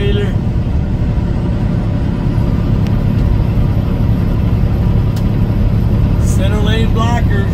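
Truck cruising on Interstate 70 near Dayton, Ohio, a steady loud cab rumble with continuous road and engine noise throughout, and a brief whining squeal near the end.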